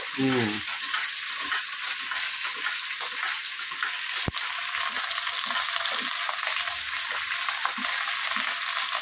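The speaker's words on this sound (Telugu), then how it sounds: "తాలింపు నెయ్యి వేసేసా" Vegetables and spices temper in hot ghee in a pan for sambar, crackling and sizzling steadily throughout at close range, with one sharp tap near the middle and faint stirring sounds.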